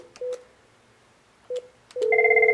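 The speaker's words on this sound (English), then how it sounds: "I'm going to receive a call on one of these phones." Cisco 7965 IP desk phone taking an incoming call: two short tone bursts spaced apart, then a sustained multi-tone ring or alert signal, heard clearly with no talk.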